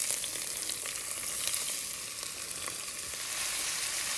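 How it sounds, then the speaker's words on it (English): Vegetables sizzle steadily in a hot pan as they sauté for a lasagna meat sauce, a close, even crackling hiss with faint stirring scrapes and no talk. "Gonna saute our vegetables."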